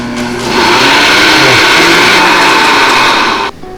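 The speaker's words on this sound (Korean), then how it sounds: "이제 이거를 믹서기에 넣고 다 갈아 버리겠습니다" A blender grinds cut fruit, a loud, steady high whirring roar that holds for about three seconds and then cuts off abruptly, close and with no talking.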